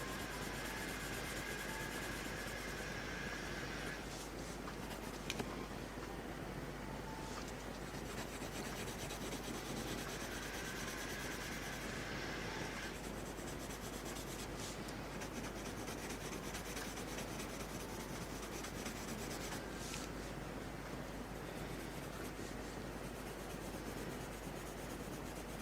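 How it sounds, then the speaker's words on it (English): Builders sawing outside, heard as a continuous raspy rubbing and filing texture at a steady level throughout, with no one talking over it. "I don't know if you can hear all the sawing that's going on outside."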